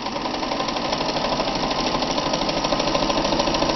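Kenmore 158.13033 sewing machine stitching the forward section of a four-step buttonhole, a loud, steady, rapid mechanical whir and needle chatter heard close and continuous with no voices.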